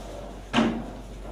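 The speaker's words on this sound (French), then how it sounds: "on ferme la porte, on commence." A door shutting in a meeting room: a single sharp thud-like knock with a short rumbling tail, heard once over quiet room ambience.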